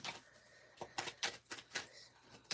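Tarot cards shuffled by hand in a quick run of crisp riffling bursts, close up and fairly quiet, with no talking.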